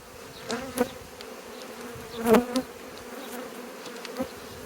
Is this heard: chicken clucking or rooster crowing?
no